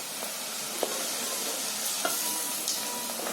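Sliced onion and green chilli fry steadily in a pan, a dense, even sizzle running throughout with a few faint scrapes of a spoon, close and moderately loud.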